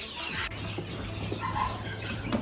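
Newly hatched chicks, out of the shell a day earlier, cheep continuously in a steady, busy chorus with small high peeps throughout and no voices over them.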